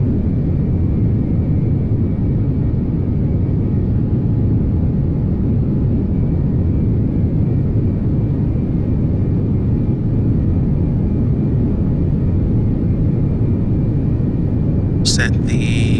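Steady, loud airliner engine roar rises through a takeoff run in a flight simulator, a dense unbroken rumble with a brief click near the end.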